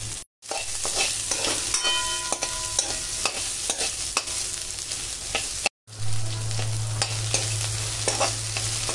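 Chopped onion sizzles steadily in a hot pan while a spoon stirs and scrapes through it, close and continuous with brief clatters, as the base for a peanut veggie poha.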